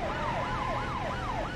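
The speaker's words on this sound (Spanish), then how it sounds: "Otra vez sirena. Pasamos de una sirena a otra sirena." An emergency vehicle siren in the BeamNG Drive driving game wails in a steady, repeating rise-and-fall pattern, loud and close, with no talk over it.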